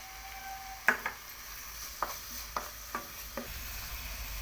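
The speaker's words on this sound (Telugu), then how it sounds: "ఇందులో కొద్దిగా లైట్గా జింజర్ గార్లిక్ పేస్ట్ వేసుకొని మళ్ళీ ఫ్రై చేసుకుందాం" Baby potatoes frying with ginger garlic paste in a pan, a low steady sizzle broken by about six distinct clinks and scrapes of a spoon against the pan, close by, with no talk.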